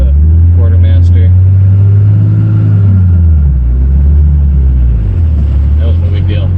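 Car fitted with a Grannas T56 Magnum clutch creeping up a home driveway, a steady low engine drone with shifting rumble, close and loud, voices faintly present underneath.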